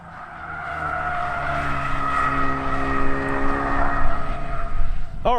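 Ford Focus RS drifting, with sustained tire squeal over a steady engine roar that swells gradually over several seconds; the car is close, loud and continuous.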